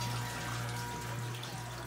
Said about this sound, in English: Alright, water dripping down.